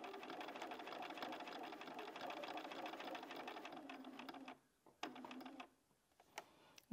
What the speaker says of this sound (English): Okay, so we're ready to sew. And just go nice and gently for this first corner.